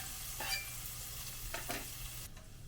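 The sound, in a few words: onions frying in butter and oil in a pan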